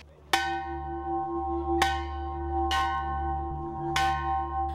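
Bell rung as the start signal for a tsunami drill in Barangay Buhatan, Santo Domingo, Albay, struck four times at a slow uneven pace, each ringing strike sustaining and decaying clearly over a steady low hum.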